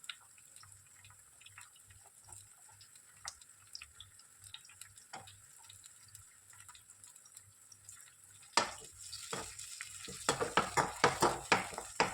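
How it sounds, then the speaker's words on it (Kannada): Green peas frying in a pan, a quiet sizzle through most of the stretch before louder stirring scrapes and clatter build near the end, close by with no talk. "ಸೊ ಇದು ಬಟಾಣಿ ಫ್ರೈ ಆಗಿದೆ"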